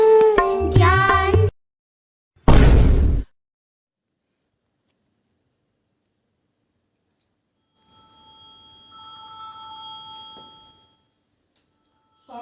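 A telephone rings with a steady electronic tone for about three seconds after a long silence, following a short burst of music and a sudden whoosh at the start.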